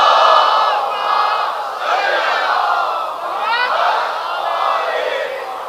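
A large congregation at a Muharram majlis in Karachi chants salawat together, a loud, sustained roar of massed voices surging in repeated waves from start to finish.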